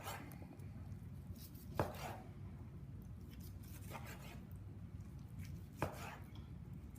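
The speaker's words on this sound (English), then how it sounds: "you like to cut this meat like this" Knife slicing across the grain of roast turkey meat, faint soft cuts with a few sharper knocks on a board over a low background hum.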